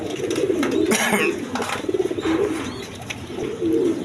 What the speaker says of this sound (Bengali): এখানে এক পেয়ার কবুতর আছে পেশরি পাকিস্তানি পেশরি কবুতর আছে